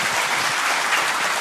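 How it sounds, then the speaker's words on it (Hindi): Steady, dense audience applause fills the hall at a Bollywood-themed public event in Uttarakhand, loud and continuous throughout with no pauses. "तालियां तालियां तालियां रुकी नहीं चाहिए दोस्तों"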